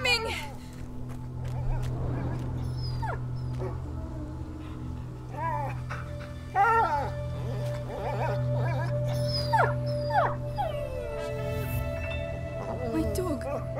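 A dog in the video game A Plague Tale: Innocence yelps, whimpers and howls in pained, rising cries over a steady low hum of game ambience, and a voice speaks at points between the cries.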